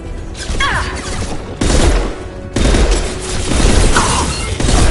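Heavy gunfire in Mass Effect 2 Remastered on PS5, loud dense bursts of shots and impacts in several sustained volleys with brief gaps between them.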